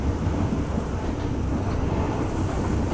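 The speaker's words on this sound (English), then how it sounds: "we got another C train coming out" A C train on a Hong Kong rail line passes with a loud, steady rumble and rushing noise that fills the moment without a break.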